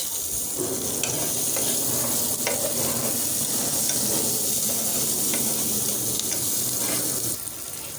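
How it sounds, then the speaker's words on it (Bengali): Onions hit hot oil left over from frying eggplant and sizzle loudly and steadily, with close-up stirring scrapes and clatters cutting through the constant frying hiss. "বেগুন ভাজার তেলের মধ্যে দিয়ে দিচ্ছি পেঁয়াজ"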